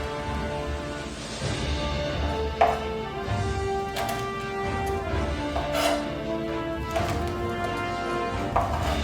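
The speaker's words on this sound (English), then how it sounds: "And then we start chopping it up." Garlic chopped with a knife on a cutting board in a home kitchen: a steady run of close knife taps and cuts, with a few sharper, louder strikes, no voices.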